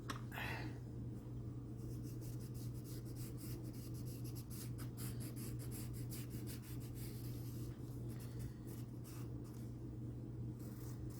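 A pencil rasps and scratches across Bristol board in short repeated strokes over a steady low background hum, close and fairly quiet, with no talking.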